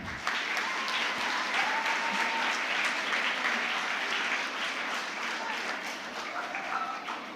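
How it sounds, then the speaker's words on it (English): Sustained applause from a conference audience at a Model United Nations closing ceremony after a draft resolution passes unanimously, dense steady clapping throughout with faint voices mixed in. "Clapping is now in order."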